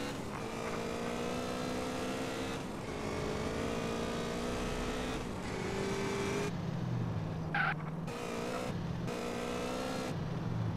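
Stolen car being driven in GTA San Andreas, engine droning and revving with shifting pitch as it speeds along, loud and continuous with abrupt changes near the end.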